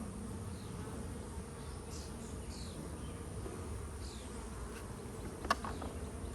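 A swarm of bees buzzes around hive frames, a continuous low drone with a few individual insects passing close, and a short sharp knock near the end.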